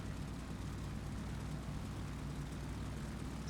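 A WWII F4U Corsair or P-47 Thunderbolt piston engine taxiing in the DCS flight simulator, a steady low droning rumble held at around 1,800 RPM and 25 inches of manifold pressure, continuous and even throughout with no talk.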